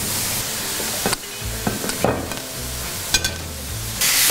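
Meat for tacos frying in a pan, a steady crisp sizzle with a few sharp scraping stirs of a utensil, close and alone without talk.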